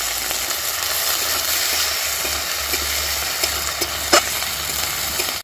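Chopped tomato goes into ginger and garlic paste frying in a pan, giving a steady close broadband sizzle with a few soft stirring knocks and one sharper clack near the end.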